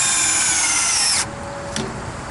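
A power drill fitted with a wire brush bit whirs loudly at high speed, then winds down and stops, followed by a brief scrubbing burst and a faint whine.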